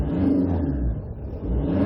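A used silver Hyundai Tucson 2WD manual car engine revs and hums steadily up close, its rumble rising and dipping slightly without anyone speaking.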